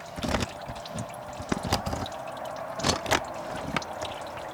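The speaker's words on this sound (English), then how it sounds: "it's like you've never seen oil run down before" Engine oil runs out of a car's drain into a pan during an oil change, a steady liquid trickle with a few louder splashy bursts, close by and alone.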